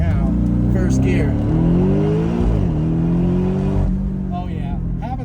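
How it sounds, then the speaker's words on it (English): Porsche 718 Boxster GTS with the roof down accelerating hard in first gear, a loud, close engine roar climbing steadily in pitch, briefly dipping and then rising again, with a voice heard over it. "Let's go ahead and take this thing for a blast now. First gear."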